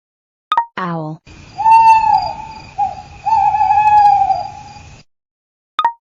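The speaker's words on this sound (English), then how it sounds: "owl," Owl calls with a harsh opening note, then long, wavering tonal hoots held for several seconds, loud and close, framed by short pops at start and end.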